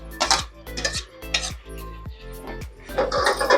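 Chopped tomatoes tipped into a steel pot of mutton curry, a run of bright metallic clinks and scrapes from a spoon against the pot, repeated roughly every half second, close and fairly loud with no talking.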